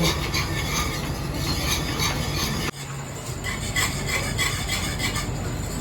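Roasted flour being stirred into milk for a cream sauce, a steady scraping and rubbing of a spoon in a pan, close and continuous with a brief pause partway through.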